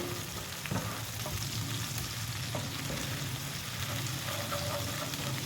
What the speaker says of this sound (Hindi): इसको करेंगे अच्छे से मिक्स ताकि टमाटर भी अच्छे से सॉफ्ट हो जाए।